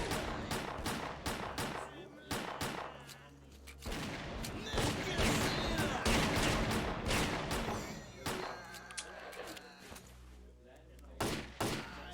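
AK rifle fire in S.T.A.L.K.E.R.: Clear Sky, rapid bursts of loud close gunshots with overlapping distant shots from enemies, a dense firefight with brief pauses between volleys.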